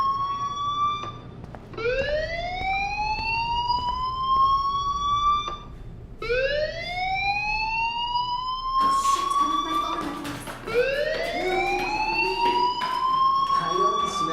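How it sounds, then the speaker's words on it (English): A rising, wailing fire alarm sounds repeatedly in a video game scene, each sweep climbing in pitch, with a voice speaking briefly over the later cycles. "do you hear that fire alarm? That means you should be outside."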